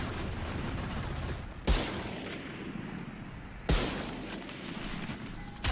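Gunfire in the shooter game Valorant: two sharp, loud shots about two seconds apart, plus a third at the very end, over a steady bed of in-game noise.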